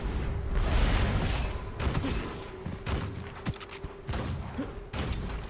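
Shotgun blasts from the Qing Jackpot shotgun in a video game, fired with extra projectiles: a rapid fusillade of loud, close booming shots in irregular bursts with a brief lull partway through.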